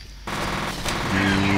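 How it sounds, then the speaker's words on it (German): Rocket launcher firing in the first-person shooter F.E.A.R., a sudden loud blast followed by sustained rumbling and a rising whoosh of the projectile, dense and continuous with no speech. "Er schießt mit einem Rocket Launcher."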